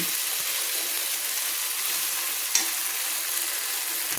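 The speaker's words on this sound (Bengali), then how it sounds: "কড়াইতে দিয়ে আমি ভালো করে পেঁয়াজ ও তেলের সঙ্গে কষিয়ে নিচ্ছি" A paste of cashew, green chili, tomato, garlic and ginger is sautéed with onion and oil in a wok for a yogurt chicken dish, making a dense, even, close sizzle with soft stirring scrapes and one brief clink.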